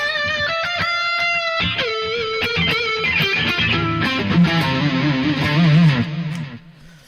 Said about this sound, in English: So with the stereo delay, it changes things.